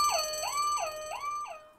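A loud electronic alarm siren wails in a steady rising-and-falling pattern, cycling about four times, clear and alone with no voices.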